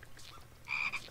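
A Minecraft frog gives a short, close croak, one brief raspy call over a quiet backdrop, with no voices.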